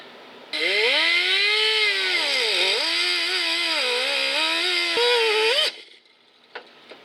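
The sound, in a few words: cut-off wheel cutting Chevy truck door pin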